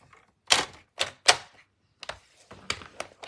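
Sharp thunks of a scoring blade pressed through paper on a scoring board, about six firm strikes in two bursts, close and fairly loud with brief silences between.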